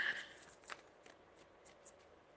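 Tarot cards riffle and slap softly as a deck is shuffled by hand, a quiet papery rustle with a few light flicks, close but faint, without speech.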